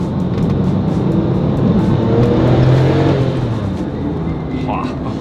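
A Porsche 911 997 Turbo's engine roars steadily, with a turbo whoosh running loud and continuous under a voice talking over it.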